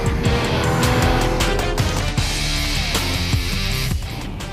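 A Porsche 911 Carrera 4S engine runs loud and close under load, its pitch climbing and dropping with gear changes, with a brief shift dip partway through and a steady drone to the end.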